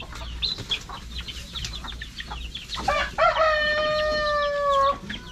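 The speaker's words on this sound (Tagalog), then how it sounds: "may pumapasok na manok na native oh" Native Darag chickens cluck sharply and then give a long rooster crow, loud and close, with no one talking.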